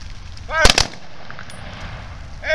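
A rifle volley at a military memorial ceremony for a fallen corporal sounds as two sharp, loud gunshot cracks close together near the middle. A faint whistle-like tone rises at the start and again at the end.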